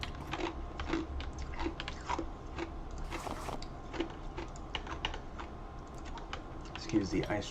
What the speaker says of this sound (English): Excuse the ice chewing.